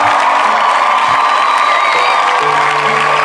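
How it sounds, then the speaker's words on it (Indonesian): A congregation in a church service cheers and shouts in praise of God, a steady, loud, dense crowd roar with whoops and children's voices mixed in, continuing throughout. "Beri sorak-sorai buat Allah kita."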